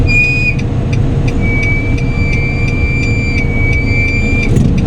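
Steady traffic hum of many cars and vehicles passing on a road beside a seawall, continuous and fairly loud, with a thin high whistle-like tone running through it.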